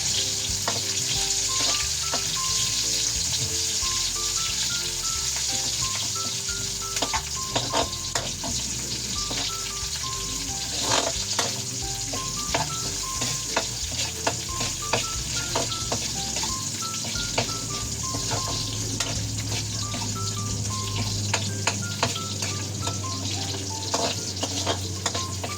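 Onion and garlic sautéing in a pan for pakbet, a strong steady sizzle heard up close with repeated stirring scrapes and occasional clinks of the spatula.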